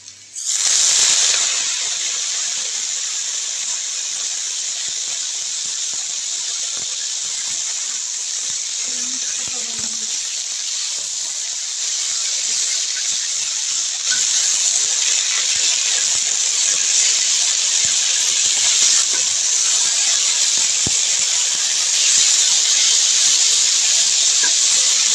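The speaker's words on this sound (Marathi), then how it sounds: "आपण ही धुवून घेतलेली मेथीची भाजी टाकू." Washed fenugreek leaves dropped into hot oil give a loud, steady hiss and sizzle that carries on without a break for about twenty-five seconds and grows a little stronger later.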